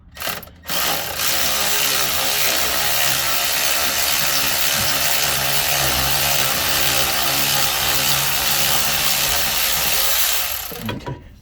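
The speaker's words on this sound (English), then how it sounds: "we're gonna grab our electric ratchet" Electric ratchet spinning on the starter bolts of a 2015 Chevrolet Silverado, a close, loud continuous whirring motor run of about ten seconds after a couple of brief bursts, with no talking.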